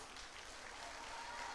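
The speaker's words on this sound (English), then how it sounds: "Can we get a big round of applause?" Audience claps at an indoor centenary celebration honoring sisters, a dense, steady wash of applause from a crowd sustained throughout.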